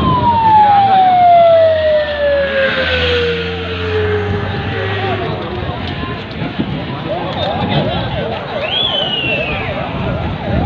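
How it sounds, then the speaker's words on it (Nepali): A wailing ambulance siren sweeps down in pitch and then settles into a rapid warbling cycle, loud and close. It sounds over traffic and street noise during a protest with a curfew in force. "एम्बुलेन्स समेत यहाँ छेलिरहेछ।"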